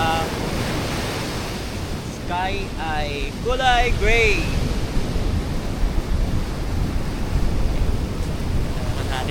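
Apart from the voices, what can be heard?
strong ocean waves at the beach during monsoon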